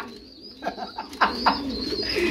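Pigeons in a loft or market pen give a few soft, near cooing calls, short throaty phrases over a quiet background.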